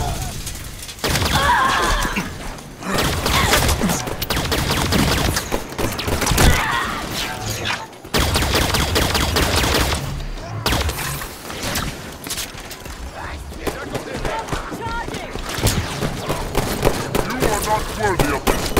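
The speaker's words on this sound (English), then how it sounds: "Opening fire." Heavy gunfire in the Halo 5 Guardians video game: dense, sustained bursts of shots and impacts that roll on almost without pause, with voices heard through the battle.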